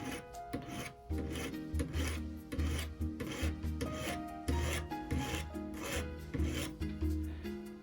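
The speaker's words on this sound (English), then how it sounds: "And this hand file probably won't get the whole thing" A hand file rasps back and forth across a textured sterling silver ring in quick, regular strokes, each stroke a short dry scrape, close and quiet with brief pauses between strokes.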